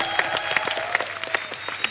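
A studio audience at a TV comedy show gives close, loud, sustained applause with a few cheers in the crowd noise.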